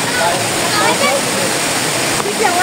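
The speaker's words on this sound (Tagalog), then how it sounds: "Dito tayo sa may falls. May falls tayo." Hinulugang Taktak waterfall in Antipolo roars as a loud, steady broadband rush of falling water close by, with a voice speaking over it.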